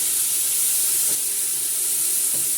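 Onion frying in hot oil in a pan gives a steady, bright sizzle and hiss that holds evenly throughout, close and fairly loud, with no talking.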